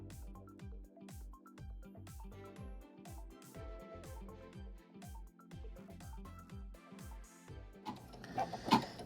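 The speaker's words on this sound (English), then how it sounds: "we're gonna go back to the machine for the final stitch" An embroidery machine works through the final stitch of a handbag accessory project, its needle hammering in a steady rapid rhythm with mechanical whirring; near the end a few louder clacks rise over the running motor.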